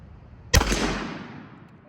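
A single sharp rifle shot from a century-old SMLE Mk III bolt-action rifle, loud and near, with a brief crack followed by a fading outdoor echo.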